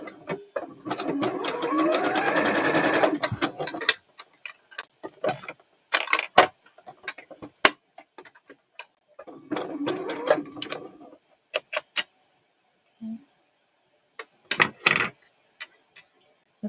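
A sewing machine stitches and back-stitches a dart on fabric in two whirring bursts, with scattered clicks and taps from handling the machine and cloth in between.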